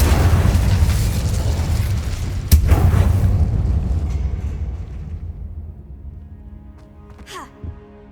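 A big roaring whoosh of fire from the Incendio spell in Hogwarts Legacy, with a sharp burst partway through, then fading to quiet with a faint voice near the end.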